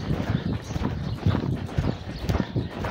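Shod horse hooves clip-clop in a steady rhythm as a ridden horse is driven forward at a gait, close and fairly loud, with light ambient noise and no talk.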